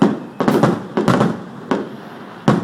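Fireworks burst in a series of loud, close bangs and crackles heard from a home balcony, coming irregularly with short gaps between explosions.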